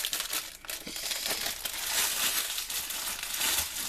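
Plastic sachets crinkle and crackle up close as they are torn open, a steady rustling that fills the whole stretch.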